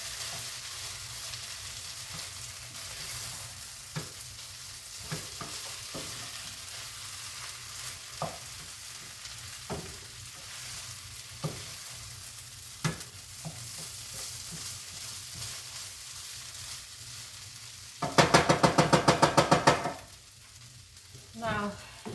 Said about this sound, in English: also continue to stir my sausage and peppers and onions